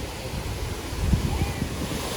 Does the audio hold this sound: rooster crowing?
no